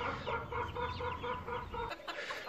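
Several chickens cluck in a steady, rhythmic chatter inside a city-centre coop, a busy overlapping flock sound that continues without pause.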